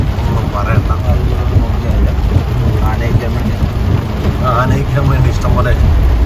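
Heavy pouring rain at night on a road during the Pala church festival in Kottayam, Kerala: a dense, loud, steady downpour roar with low rumbling, while someone talks over it throughout.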